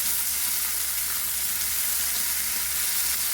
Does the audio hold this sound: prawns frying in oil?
yes